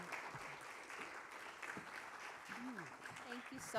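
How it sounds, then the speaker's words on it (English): A crowd claps steadily in the background, moderately faint, while a voice speaks over it briefly. "let's do another round of applause for Commissioner Toole."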